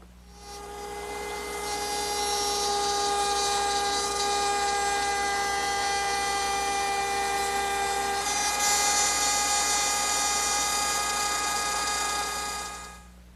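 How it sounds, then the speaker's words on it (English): A router bit cuts a rabbet in wood with a loud, steady high-pitched whine that holds for about twelve seconds, rising in pitch partway through before spinning down. "Now I'll just move my guide block to the other line, which is the leading edge of the bit, and finish the rabbiting."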